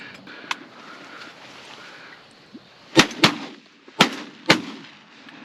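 Four sharp shotgun blasts ring out close by while hunting early-season teal ducks in Iowa, two in quick succession near the middle and two more spaced a second apart, over a steady outdoor background.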